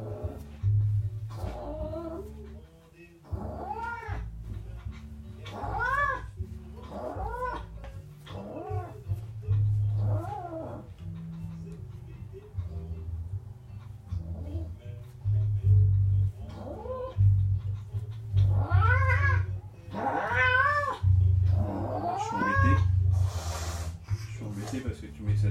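A cat being groomed and dematted lets out repeated loud meows and drawn-out caterwauls in uneven bursts, while people talk nearby and a low rumbling hum runs underneath.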